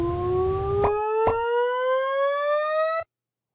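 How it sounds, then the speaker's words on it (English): Desmos Hear Graph plays a sonified tone for the line y equals x, a steady electronic pitch sweeping smoothly upward for about three seconds. Two brief clicks mark the start, and a faint fuzz sits under the opening while the values are negative. "It cues up audio that there's a little fuzz over the sound to indicate that it's negative."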